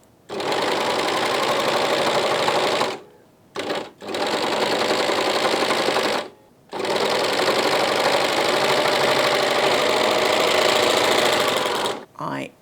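A sewing machine stitches tape onto a trouser pocket in loud, steady mechanical bursts, briefly stopping three times before running on, with no voices.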